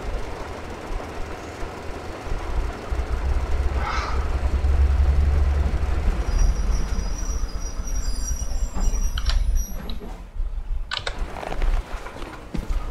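A train in Metro: Exodus pulls in with a steady heavy rumble and metallic wheel squeals, building to a loud approach and then screeching and clanking as it slows near the end.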